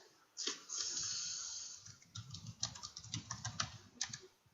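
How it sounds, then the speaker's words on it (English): Rapid typing on a computer keyboard, a quick irregular run of close clicking keystrokes in bursts after a brief initial rustle, fairly quiet with no speech. "typing too fast and I'm making typos"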